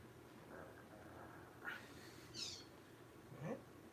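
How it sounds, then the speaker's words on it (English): Cats meowing outside, three faint, brief calls spaced apart over a quiet, low background hum. "You hear that? That's those cats."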